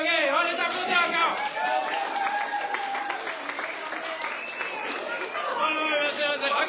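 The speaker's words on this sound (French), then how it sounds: "On les applaudit encore." Audience applause at an evening party gathering, a steady wash of clapping with cheering voices over it, fairly close and continuous through the stretch.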